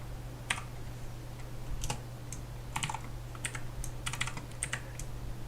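Irregular bursts of keystrokes on a computer keyboard, crisp and close, with brief pauses between taps over a low steady hum. No speech is heard.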